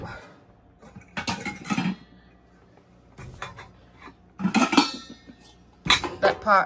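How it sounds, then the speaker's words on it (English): Metal pots and pans clatter and clank as they are set into a kitchen cabinet, in several separate bursts of knocking and scraping with quiet gaps between. "Let's put our pots there."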